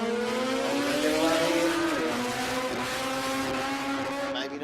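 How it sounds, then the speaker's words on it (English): Rotary-powered Mazda Capella 13B drag car at a drag strip, engine screaming loud and close as the throttle is feathered, pitch wavering and dipping briefly before holding steady, then cutting off at the end. "You can hear it feathering the throttle there, just trying to keep it straight"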